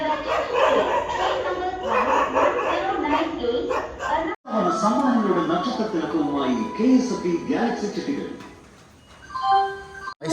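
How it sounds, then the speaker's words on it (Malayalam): Several dogs bark and yip in a noisy, overlapping clamor on a railway platform in heavy rain, with voices and crowd noise mixed in and a brief cutoff midway. "പട്ടികളുടെ കച്ചറ ഇടിയാണ്"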